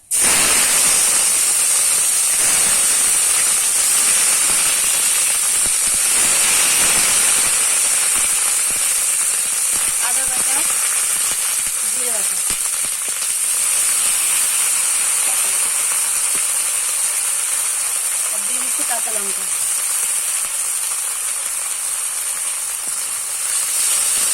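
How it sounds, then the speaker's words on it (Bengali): Onion paste hitting a hot pan with cumin seeds for Kashmiri aloo dum, a loud continuous sizzle and hiss that holds steady throughout, with no talking. "দিয়ে দিচ্ছি পেঁয়াজ বাটা"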